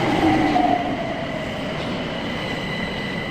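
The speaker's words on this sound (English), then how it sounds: "Oh, a train's pulling in." A London Overground Windrush line class 378 electric train pulls into the Whitechapel platform, loud and close, with a steady rumble and a high wheel squeal fading in the opening second.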